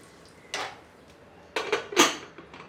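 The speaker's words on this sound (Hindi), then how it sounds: "अब इसको हम ढक देते हैं।" Metal clatter of a lid settling onto a pot of popcorn kernels on a gas stove, a soft clink followed by a couple of sharper rattling knocks near the end, close by.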